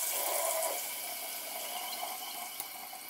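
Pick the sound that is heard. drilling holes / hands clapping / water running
water running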